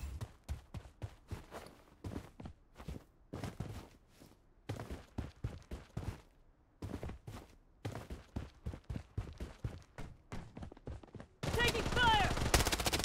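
Gunfire in the shooter video game Bloodstrike sounds as rapid close bursts of shots in uneven volleys throughout, with a brief pause midway and a denser noisy stretch at the end.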